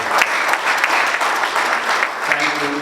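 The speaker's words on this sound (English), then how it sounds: "Let's give him another round of applause" Steady audience applause at a legal education session during a bar week gathering, a dense continuous patter of many hands clapping with faint voices underneath.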